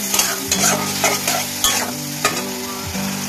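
Onion-garlic paste sizzles loudly in a pan while a spatula stirs it, with repeated scraping strokes roughly every half second over a continuous frying hiss.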